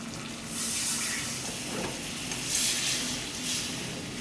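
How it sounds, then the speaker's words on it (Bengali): Water pours steadily into chicken curry simmering with boiled potatoes in a pan, a continuous hissing splash that swells and eases in a few waves over several seconds, with no talking. "এখন আমি জল দিয়ে দিব।"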